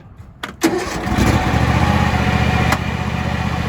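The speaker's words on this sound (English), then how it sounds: "we'll start the tractor up" A John Deere X300 lawn tractor engine cranks with a few short clicks, catches with a sharp start, then settles into a loud, steady running drone nearby.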